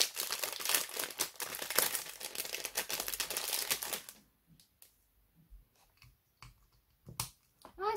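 A small gift package holding a tiny craft cutter is torn open up close: dense crinkling and tearing of wrapping, then quieter scattered rustles and clicks as it is handled.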